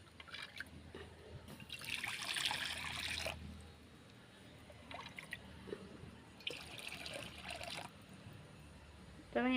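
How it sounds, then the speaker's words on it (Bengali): Water poured into a pan set on the stove to heat, coming as two bursts of splashing trickle a few seconds apart, close and moderately loud, with quieter kitchen handling between them. "এখানে আমি পরিমাণ মতো জল গরম করতে দিয়ে দেব"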